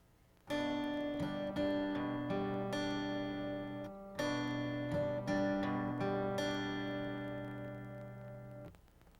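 An acoustic guitar alternates plucked bass notes with brushed strums in a steady repeating pattern, played twice, close and ringing out at the end.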